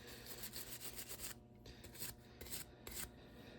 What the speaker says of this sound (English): I also like to take a little wire brush and just kind of clean out the threads on anything that I'm going to be reassembling